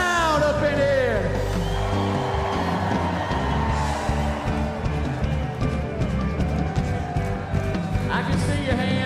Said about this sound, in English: everybody is screaming really loud up in here